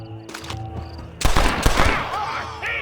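Gunfire in the Western video game Red Dead Redemption: a burst of loud, close shots and rapid volleys ringing out in quick succession, with faint game voices and effects around them.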